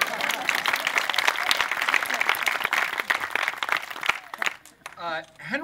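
Audience applauding at a dedication ceremony for a heritage farm site, a dense, loud burst of clapping that carries on for several seconds before fading out as a voice begins talking.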